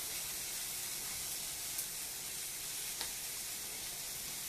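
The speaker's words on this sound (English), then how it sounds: "we're going to use that to start sauteing the vegetables" Vegetables sauteing in margarine in a pan, giving a steady, dense frying hiss that runs evenly throughout, with two faint ticks partway through and no talking.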